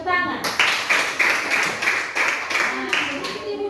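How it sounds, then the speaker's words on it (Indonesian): Students in a classroom clap in a quick, lively burst of applause lasting several seconds, the sharp hand claps close and fairly loud. "Oke, tepuk tangan."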